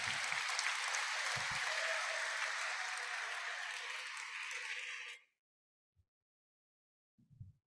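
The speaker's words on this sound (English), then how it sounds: "please a round of applause for her once again" Audience applause for a lecturer after a university inaugural lecture on soil microbes, steady crowd clapping from a distance with a couple of low thumps, cutting off abruptly into near silence.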